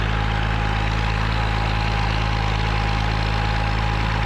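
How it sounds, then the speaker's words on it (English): A Rover P6 car runs with its exhaust droning in a constant, loud, close rumble, driving through the Scottish countryside on the way to a classic vehicle show, with no voices over the engine noise. "There's no better vehicle for exploring these lands than having the beautiful music of the P6 exhaust to guide us."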